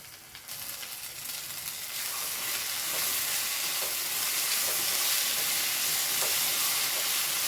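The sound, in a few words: stirring crushed chili and Kashmiri chili frying in pan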